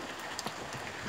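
Rain patters steadily in a garden in Thailand, a dense close hiss of drops with a few sharper taps over one second.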